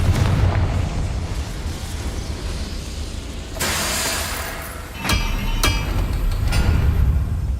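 Confringo fire spell exploding in the Hogwarts Legacy video game: a sudden loud blast over a rumbling game background, followed by a couple of sharp bursts.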